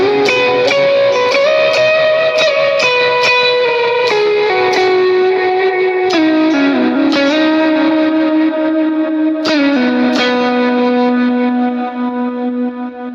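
Electric lead guitar for a song, played through effects with tremolo, distortion and echo, a sustained melodic line with picked notes over a continuous wash of sound, loud and alone.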